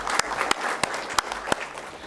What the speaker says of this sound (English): a big round of applause for our Executive Director